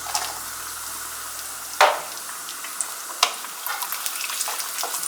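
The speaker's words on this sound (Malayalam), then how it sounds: "അണ്ടിപ്പരിപ്പും മുന്തിരിയും ഇട്ട് കൊടുക്കാം." Cashews and raisins fry in hot fat in a pan for jaggery vermicelli payasam, making a steady close sizzle broken by a few sharp stirring scrapes and pops, with no talk.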